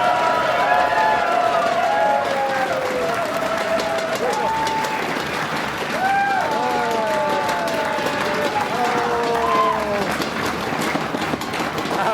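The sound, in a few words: audience applause at livestream event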